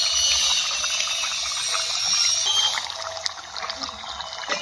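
Liquid pours steadily into a pan of tilapia fish curry, a continuous close trickling wash that thins out toward the end.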